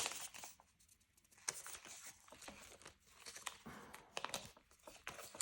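Paper banknotes being handled and folded at close range, with repeated crinkling and soft tearing-like rustles in irregular bursts, fairly quiet and with no talking.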